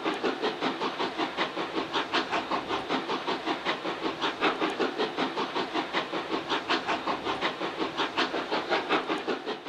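An SNCF 141 R steam locomotive works hard, its exhaust beating out a fast, even, loud rhythm of chuffs with steady hiss and no voices.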